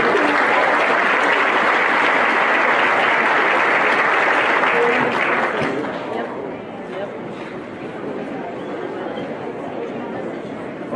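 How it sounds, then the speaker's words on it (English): Audience at a district arts festival claps loudly and continuously for several seconds, then the applause thins and fades into scattered clapping and murmur. "You deserve a round of applause"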